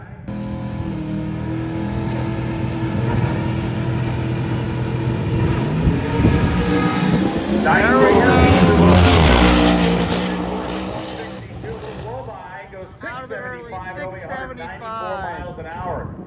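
A drag racing car makes a pass at Drag Week, its engine roaring loudly and building to a peak before fading away down the strip, with tire squeal, spectator chatter and someone talking nearby as it recedes.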